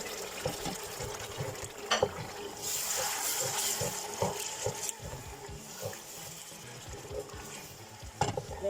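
Crushed tomato stirred into a hot pan for couscous gras, giving a steady sizzle with scraping stirs and a few sharper knocks of the utensil against the pan, close and fairly loud.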